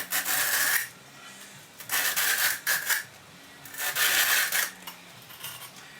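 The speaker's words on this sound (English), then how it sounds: "So I'll scrape this off ready for the next board." Clogged veneer-filling muck is scraped off an abrasive pad in long, harsh rasping strokes, three main passes with short pauses between, close and loud with no voices.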